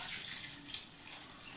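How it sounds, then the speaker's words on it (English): Water pours steadily from a tap into a container of sugar for homemade pineapple beer, a soft, continuous gushing splash with no voices. "I want to just fill it up a little bit with water still."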